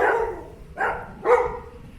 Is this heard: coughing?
no